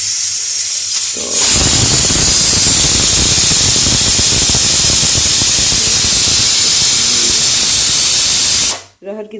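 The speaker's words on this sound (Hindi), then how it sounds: "तो गाइस देखिए यहाँ तो कुकर सीटी देने लगी है" A pressure cooker of arhar dal lets out a loud, continuous steam whistle and hiss that starts abruptly, holds for about seven seconds, then cuts off, with a brief word spoken at the start.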